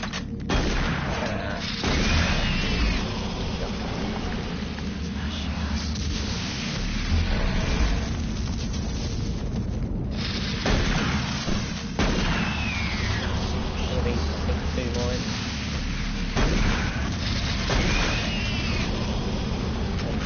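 Automated turret guns firing in Doom 3, a steady stream of repeated shots and booming impacts running through the whole stretch at a consistent loudness.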